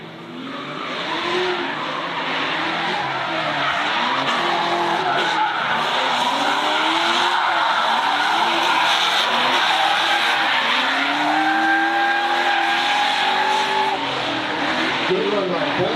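Drift cars slide through a competition run, tires squealing and skidding loudly and continuously, with engines roaring underneath and an announcer talking over the action.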